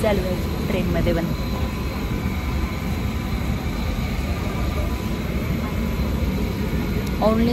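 Steady low rumble of a train in motion, heard from inside the carriage during a day trip to Pune, continuous and fairly loud with faint voices talking over it.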